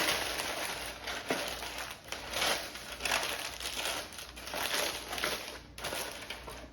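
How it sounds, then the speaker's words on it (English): Parchment paper is crushed and crinkled by hand into a ball in a kitchen, giving close, crackly bursts of rustling in irregular squeezes over several seconds, with no talk. "Take a piece of parchment and crumple it up into a ball."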